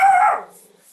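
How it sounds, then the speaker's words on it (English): A dog gives one sharp, loud bark at a car parked in a driveway across the street, the sound trailing off quickly into quiet. "Somebody dared park in their driveway across the street, and Bogey told them what for regarding that"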